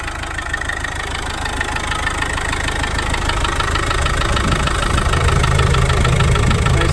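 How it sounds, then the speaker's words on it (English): A 1991 Land Rover Defender 110 with a 200Tdi diesel engine idles steadily and smoothly close by, a continuous mid-low diesel clatter with an even knocking rhythm and no voices. "Engine runs nice and smooth and sounds just like a diesel should."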